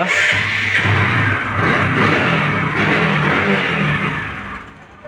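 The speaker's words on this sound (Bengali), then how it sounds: "এটার তো সাউন্ড তো পালসারের মতো বানাচ্ছে ভাই, হ্যাঁ জেনুইন সাউন্ড" Engine of a second-hand motorcycle with 35,569 on the odometer at a used bike showroom in Joypurhat, Bangladesh, revving loud and close for several seconds before easing off at the end, with no talking.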